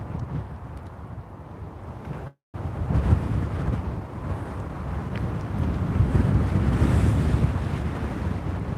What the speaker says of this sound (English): the wind just suddenly picked up